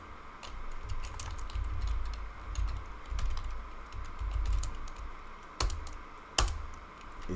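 Quick bursts of keystrokes clatter on a computer keyboard close by, irregular runs of clicks with short pauses and a couple of sharper key strikes, over a low room hum.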